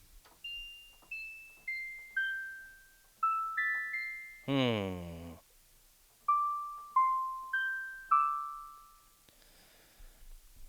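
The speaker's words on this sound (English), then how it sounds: "How about a bell?" Soft bell tones played in a music production beat, a sequence of single chime notes stepping down in pitch with gentle decays, broken by a short burst of a harsher tone and then more chimes; a brief murmur is heard.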